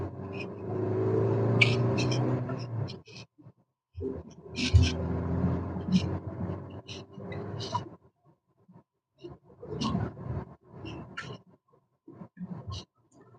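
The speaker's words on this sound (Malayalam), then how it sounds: "ഇപ്പോൾ വണ്ടി പെട്രോളിലാണ് കേട്ടോ ഓടിക്കൊണ്ടിരിക്കുന്നത്." A Maruti Fronx running on petrol, its low engine rumble droning steadily from inside the car while people talk over it.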